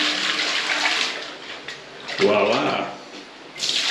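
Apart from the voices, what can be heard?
flushing a toilet by pouring water with a gayung scoop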